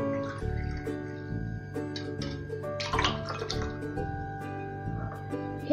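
Ginger-sugar syrup pours into a glass holding ice cubes, giving a trickling liquid flow with light clinks, over background music.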